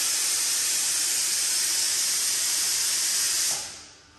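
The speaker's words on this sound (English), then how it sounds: "that's the compressor" Steady, loud broadband hiss of an air compressor running without pause for about three and a half seconds, then cutting off and fading away near the end, with no voices over it.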